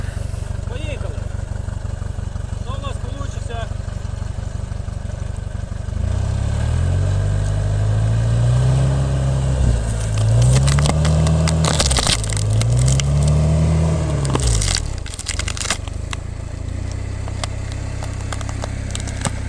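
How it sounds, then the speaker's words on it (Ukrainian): A vehicle in low gear strains to pull peach tree roots out of the ground, its engine revving in repeated rising surges, with cracking and splintering noises and people talking over it. "Пробуємо дергати, поставили на замедлену передачу."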